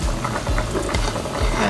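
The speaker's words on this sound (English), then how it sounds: "So this olive oil, I'm going to add the onions and the celery" Chopped onions and celery hit hot olive oil in a pan for minestrone soup, giving a loud, dense, continuous sizzle with a few low bumps as the vegetables drop and move.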